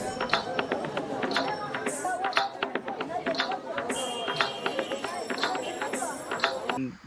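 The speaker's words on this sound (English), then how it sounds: "I also put this sample of the streets in India." Busy street ambience from India: a dense bed of chatter, taps, clatter and clip-clop-like knocks, with steady background bustle at moderate distance.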